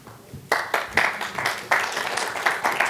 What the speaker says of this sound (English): if you're clapping before I start, it's probably a bad sign